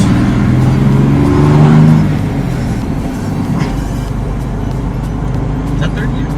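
A 2006 Chevy Silverado pickup with a manual gearbox drives along, its engine droning steadily from inside the cab. The revs swell and then drop as a gear changes, while people talk over the engine.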